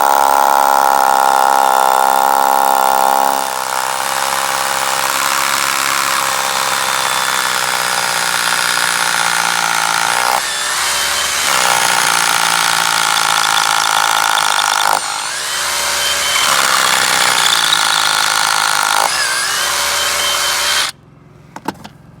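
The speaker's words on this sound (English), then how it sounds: "Just kind of pick a spot along here and start drilling." A drill bores steadily into concrete to make a hole for an anchor fastener during a house build. The whine is loud and continuous, with brief dips and pauses between bursts and a sudden stop at the end.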